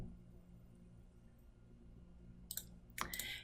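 Two quick computer mouse clicks near the end of a quiet stretch of low background hum while building a data table in a spreadsheet, close and crisp, with no talking.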